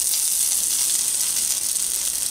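Pulled pork dropped into a hot oiled pan sizzles steadily, a bright continuous hiss close up with no other sound.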